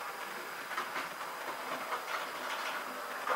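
An OO gauge model train runs along a model railway track, giving a soft continuous rolling rumble with faint rhythmic clicks at moderate volume and no talking.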